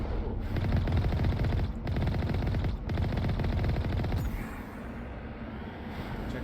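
Sustained automatic gunfire in the video game Mass Effect: a steady, loud, close rattle of rapid shots with brief breaks, easing to a quieter rumble near the end, with no voices.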